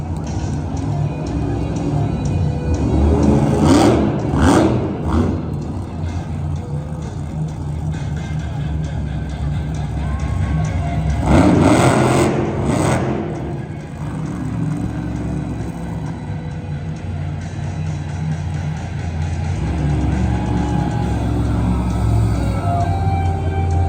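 Megalodon monster truck at a Monster Jam show in Greensboro, North Carolina, its engine roaring and surging in loud bursts over steady arena rumble, with an announcer talking over it.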